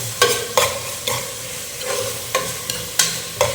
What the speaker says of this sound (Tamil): இப்போ இந்த பட்டை, கிராம்பு, ஏலக்காய் ஒரு ஸ்பைஸும் போட்டுக்கிறேன்